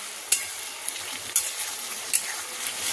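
Potatoes frying in a pan for a vegetarian banana flower curry, a steady close sizzle with a few sharp scrapes of a spatula stirring them at intervals.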